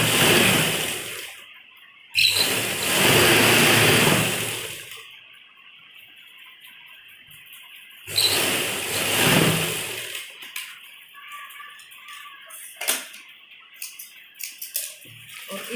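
A sewing machine stitches stretched elastic into the waistband of a women's narrow palazzo trouser, running in two loud bursts of rapid stitching separated by quieter handling and fabric rustle, with no talking.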